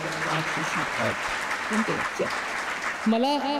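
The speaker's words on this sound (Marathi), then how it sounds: "ज्या स्पर्धकांनी भाग घेतला त्यांच्यासाठी एकदा जोरदार टाळ्या वाजवल्या" A crowd at a Marathi poetry collection launch ceremony gives a continuous wash of applause while a person keeps talking over it.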